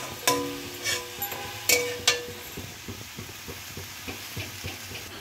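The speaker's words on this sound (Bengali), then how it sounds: "তারপরে সামান্য পরিমাণে এর মধ্যে একটু জল দিলাম শাকটা মাখা মাখা করবার জন্য" Mustard greens fry in a pan after a little water is added, giving a steady close sizzle broken by a few sharp clinks and scrapes of a utensil against the pan.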